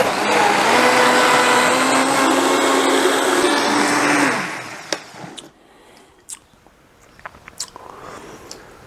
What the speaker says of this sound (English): Be super careful if you ever put a spoon in this thing while the blender's running